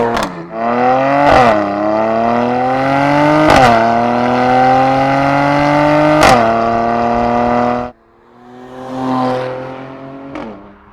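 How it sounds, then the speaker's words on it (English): A Mercedes-AMG C43 revs hard through several gear changes, its engine tone climbing and dropping with sharp breaks, then lifts off so the exhaust crackles and burbles on the overrun, loud and close. "those snaps on the exhaust with the overrun and the pops and burbles"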